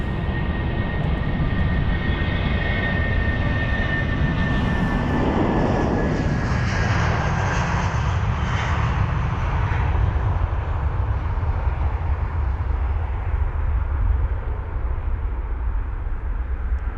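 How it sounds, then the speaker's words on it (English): A jet airliner departs the runway at London Heathrow, its loud, continuous engine roar building and then easing slightly as it climbs away, with no talk heard. "And now our jet is on the move,"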